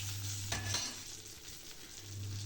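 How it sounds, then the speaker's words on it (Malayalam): Mustard seeds, curry leaves, turmeric and vegetables fry in a pan for aviyal with a soft continuous sizzle and a brief stirring scrape, quiet, with a low hum in the background. "അതിനിപ്പോൾ കടുകും വേപ്പിലയും കടർത്ത് കുറച്ച് മഞ്ഞൾപ്പൊടി ഇട്ട് കഷ്ണങ്ങളൊക്കെ ഇട്ടൊന്ന് ഇറക്കി കൊടുക്കാം"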